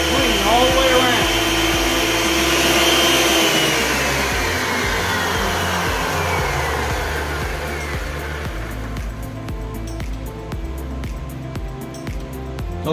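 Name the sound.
wood planer running after maintenance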